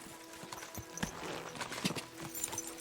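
Quiet, irregular clip-clop of horse hooves on hard ground at a walking pace, faint and somewhat distant, with no speech.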